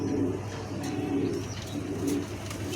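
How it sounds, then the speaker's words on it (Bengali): Imported high-quality pigeons cooing in a loft, soft repeated low coos rising and falling in a steady rhythm at close range, with no talk. "কোয়ালিটি ফুল কবুতর, এগুলো নর্মাল কবুতর না"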